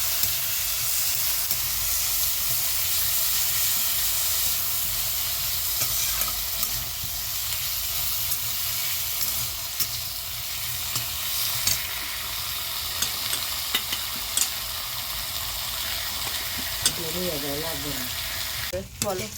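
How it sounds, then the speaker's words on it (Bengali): Chopped vegetables fry in a pan with turmeric and ginger, giving a continuous loud hissing sizzle that runs throughout, broken by a few brief clicks and a scrape of stirring near the end, with no talking. "দিয়ে দেবো সমস্ত কেটে রাখা সবজিগুলো, দিয়ে একটু ভেজে নেব।"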